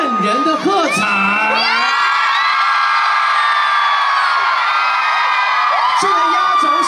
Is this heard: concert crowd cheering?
yes